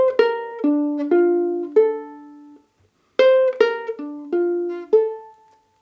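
A ukulele picks out the opening phrase of a song as clean plucked single notes, played twice with a short pause between the two passes, close and alone.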